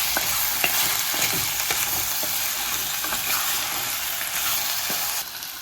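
Washed chicken pieces with salt stirred in a pot for chicken curry, a dense sizzle with repeated knocks and scrapes of a spoon against the pot, close and loud, no speech.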